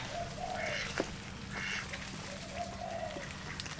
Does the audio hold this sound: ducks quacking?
yes